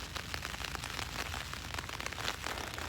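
Rain falling on a Mountainsmith Lichen Peak tent during a night of heavy downpours turning to freezing rain, a dense, close, continuous patter of drops drumming on the fabric with no talk.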